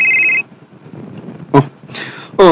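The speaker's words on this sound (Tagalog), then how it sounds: "Cellphone." A cellphone rings with a steady electronic tone that cuts off, then brief bursts of a higher ringtone return twice, loud and close, with faint background sound between.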